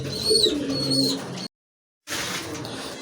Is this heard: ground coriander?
no